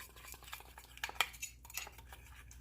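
Spoon stirring sweetener into a drink, giving quick, close, faint clinks and swirling scrapes against the cup, with one sharper tap in the middle and no talking.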